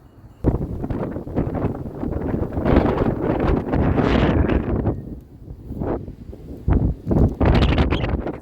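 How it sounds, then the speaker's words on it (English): Strong wind on a market farm buffets the microphone in loud, roaring gusts that rise and fall, with brief lulls between blasts. "See how windy it is."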